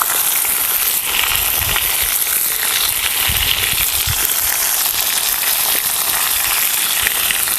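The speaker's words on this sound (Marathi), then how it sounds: "आपण कारले ना त्यामध्ये घालूया तेलामध्ये" Bitter gourd goes into hot oil with garlic on a flat tawa, producing a loud, continuous crackling sizzle with a few low bubbling bumps, steady for several seconds and with no one speaking.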